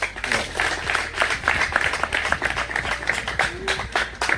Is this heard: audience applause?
yes